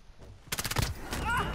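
A rapid burst of gunfire crackles in quick succession, followed by a louder blast and lingering noise, sounding like game audio.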